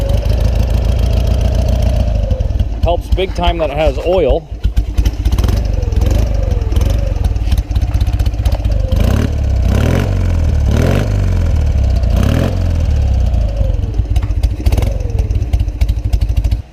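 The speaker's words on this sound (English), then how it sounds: "Oh, first kick. Not too bad. But the motor sounds pretty good." Vintage BMW motorcycle engine catches on the first kick and settles into a steady, loud idle with some revving and mechanical clatter; someone speaks briefly over it.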